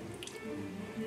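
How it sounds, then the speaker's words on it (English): Marinade sauce poured over six pieces of chicken tender, giving a soft, close wet drip and squish of liquid landing on meat, steady and quiet for about a second. "We're just gonna pour some on the chicken,"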